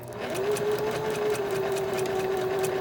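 A sewing machine runs steadily while stitching the back of a 9-patch pillow, a loud close continuous motor hum and needle whir held evenly throughout.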